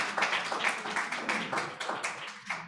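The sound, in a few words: audience applause after a poetry reading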